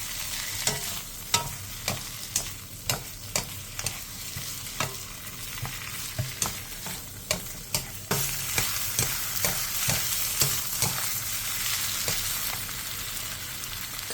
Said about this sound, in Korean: 팬에 기름을 두른 뒤 묵은지를 넣고 중불에서 3분 정도 볶아주세요.